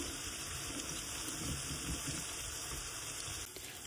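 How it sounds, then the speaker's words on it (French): Water pours into a cooking pan holding onions browned for 10-15 minutes, a steady close rushing splash that runs for several seconds before easing slightly near the end. "je viens mettre de l'eau que je vais faire porter à ébullition"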